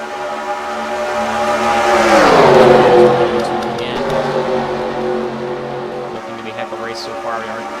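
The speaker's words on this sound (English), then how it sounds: "Maybe here comes Isabella Reed to make it a 3-wide race for the lead as we're going down lap 2 of 15." Race cars roar past at Daytona during a race, engines building to a loud close pass with a falling pitch, then more cars droning and revving farther off while a commentator talks over them.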